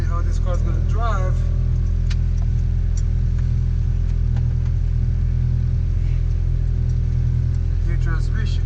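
Honda DC5 with a swapped K24 engine and new transmission, its steady engine drone rumbling loud and close throughout while someone talks over it.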